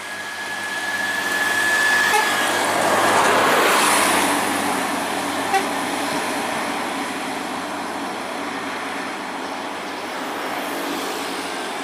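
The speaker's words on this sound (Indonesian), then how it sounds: "Pemain baru dari Tanjung Beringin yaitu P.O. Batu Palas tujuan dari Tanjung Beringin menuju Simpang Kampar" A P.O. Batu Palas bus on a road between Tanjung Beringin and Simpang Kampar passes with a steady roar of engine and tyre noise, swelling as it draws near and fading after; a horn blast is not clearly picked out.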